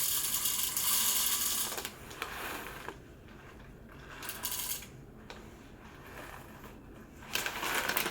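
Coffee beans poured into the hopper of a Breville Barista Touch BES880BST espresso machine, a dense rattling rush up close that comes in several bursts separated by brief quieter pauses.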